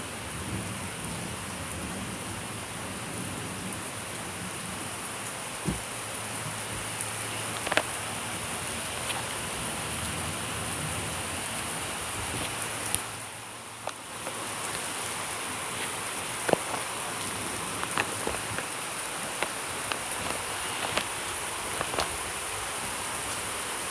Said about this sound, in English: Mother Nature's mad because of how hard the rain is.